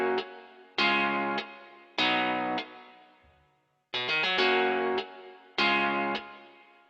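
Electric guitar through overdrive, pedal distortion and amp effects plays loud, thick sustained chords in repeated bursts, each ringing out and decaying between strikes, with no voices.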